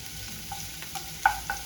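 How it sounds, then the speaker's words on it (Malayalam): Three finely chopped garlic cloves and two green chilies sauté quietly in a pan, with a low steady sizzle and a few soft clinks of a spoon stirring. "മൂന്ന് വെളുത്തുള്ളി ചെറുതാക്കി അരിഞ്ഞത് രണ്ട് പച്ചമുളക് ഇട്ട് കൊടുക്കാം രണ്ട് മിനിറ്റ് ഒന്ന് വഴറ്റാം"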